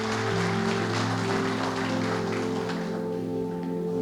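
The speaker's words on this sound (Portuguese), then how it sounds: "Aplauda bem forte a Jesus." A church congregation claps loudly for Jesus during a sermon, a steady roar of applause over a sustained organ or keyboard chord that tapers off toward the end.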